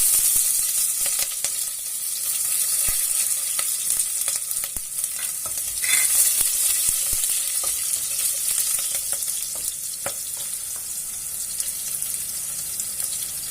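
Garlic and green chilies fry in a pan with fennel seeds, giving a steady crackling sizzle broken by brief clinks of stirring, close and moderately loud with no talking.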